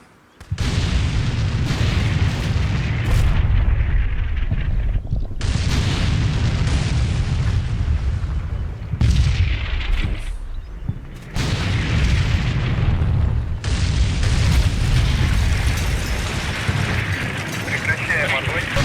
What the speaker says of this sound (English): Sorry, that artillery's probably loud there